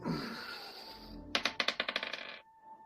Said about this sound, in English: Roll for initiative.